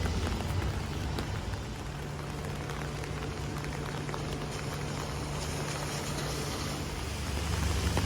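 Rain falling by a bridge in Stockholm, a steady dense hiss of drops spattering on surfaces with a low background hum, continuous and moderately loud throughout.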